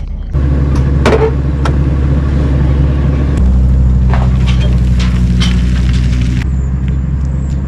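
A roll-off dumpster truck's engine idles loudly nearby in a heavy, steady low rumble, with a few sharp knocks and clatters over it and a brief shift in tone midway.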